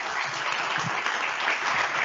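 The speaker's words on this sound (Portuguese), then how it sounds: "Palmas, pessoal." An audience applauds after a panel on integrated retail payments, brief, even clapping that fills the room without a break.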